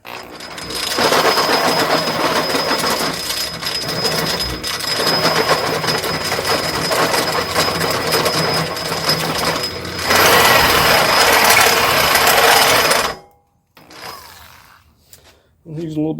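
A power drill runs loudly and steadily as it bores a hole, with a brief surge in pitch partway through, then cuts off abruptly before a short quieter burst.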